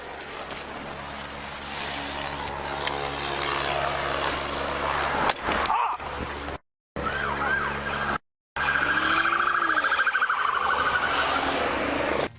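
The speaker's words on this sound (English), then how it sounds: "out of nowhere, he gets clipped by a passing vehicle" Sirens wail and a passing vehicle rushes by at a police traffic stop where an officer gets clipped, with steady road noise, a sharp impact-like burst midway, and brief dropouts in the sound.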